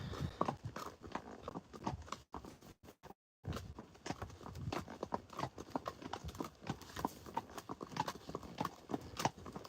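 Horse hooves clip-clop steadily on a ride-and-lead outing with two horses, a close, even patter of footfalls with a brief break, faint voices now and then.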